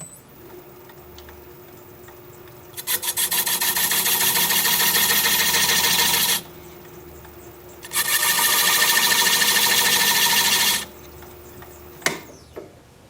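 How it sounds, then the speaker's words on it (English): A quarter-inch spindle gouge cutting grooves in spinning maple on a lathe gives two sustained scraping cuts over the low motor hum, with a short tap near the end. "I'm just going to take this little 1/4 inch spindle gouge and just cut here and cut here"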